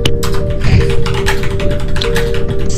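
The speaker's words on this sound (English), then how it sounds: "I'm gonna give you some ASMR keyboard typing here." Rapid computer keyboard typing in an ASMR style, a steady stream of close, crisp key taps with a faint constant tonal hum beneath and no talking.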